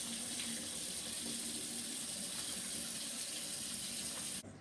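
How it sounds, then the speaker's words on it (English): A tap runs steadily into a sink while hands are washed before cooking, a constant close splashing hiss that cuts off abruptly at the end. "Right, let's go wash our hands then."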